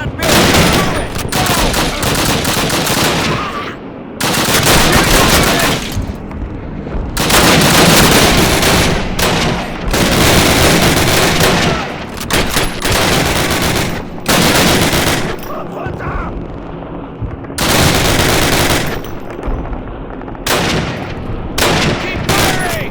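Bursts of machine gun fire in Call of Duty 1's American campaign, loud and rapid. They come in repeated volleys with short gaps, mixed with other gunfire and booms of battle.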